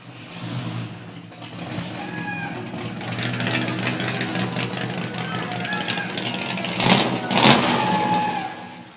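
A Corvette with a 454 V8 revs at a car auction, its engine rumbling steadily under the auctioneer's voice and crowd noise, with a couple of louder bursts near the end.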